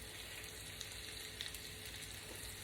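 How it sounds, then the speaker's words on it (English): Onion and celery fry in a pan with fresh garlic and ginger, giving a steady close sizzle with a few small pops and no talk. "now I'm going down with my onion and my celery"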